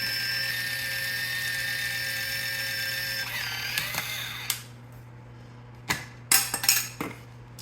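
A Kitchen Mama electric can opener hums steadily with a high whine as it cuts open a can of pumpkin, then stops, followed by several sharp metallic clicks and clatters of the can and lid.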